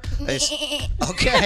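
A person imitates a goat bleating with a wavering, nasal, quavering call, loud and close, followed by a brief spoken word.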